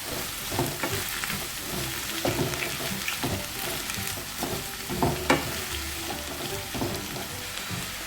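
Onion and green chilli stirred into a sizzling potato curry in a pan, a steady frying hiss with irregular scraping clinks of the spoon throughout.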